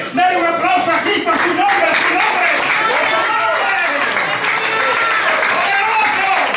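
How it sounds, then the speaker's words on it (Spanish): A church congregation claps and cheers in praise of Christ during an evangelical service, dense sustained applause filling the room with voices and shouts mixed in, steady and loud throughout. "denle un aplauso a Cristo."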